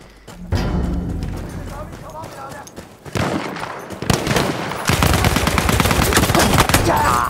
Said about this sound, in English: I love the sound effects of the weapons, too.